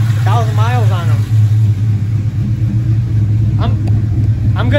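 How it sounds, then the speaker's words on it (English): Modified 4.6-litre V8 Ford Mustang (1996–2004) with new cams idling steadily, a loud continuous low rumble with a slight lope, while a voice talks briefly over it near the start. "I'm gonna shut up so you can hear the car a little bit."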